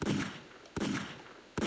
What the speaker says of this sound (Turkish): Bak silah sesi falan dur birazdan ateş ederler